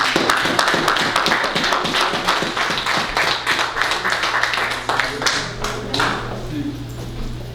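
A church congregation claps and applauds warmly, dense overlapping hand claps filling the room alongside a low sustained hum, with voices mixed in throughout.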